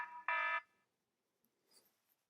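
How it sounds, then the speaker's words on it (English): An alarm sounds in two short loud tonal bursts, the second longer and stronger, followed by near silence with a few faint scattered noises. "Whoa, that's an alarm."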